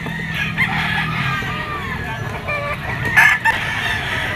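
A yellow-legged bull stag rooster crows loudly and close, one drawn-out call with a sharp peak near the end, amid a busy pet market with other fowl clucking in the background.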